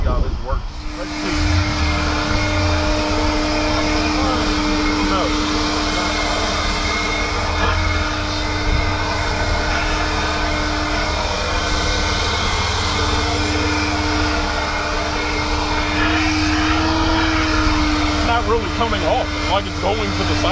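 A leaf blower runs outdoors with a loud, steady rushing drone and a constant whine, holding even throughout while people talk.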